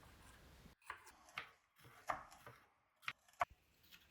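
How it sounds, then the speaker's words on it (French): A knife chops a yellow bell pepper into pieces on a board, producing faint, irregular tapping cuts with short pauses between them in a quiet kitchen. "Du poivron jaune que je vais couper en morceaux."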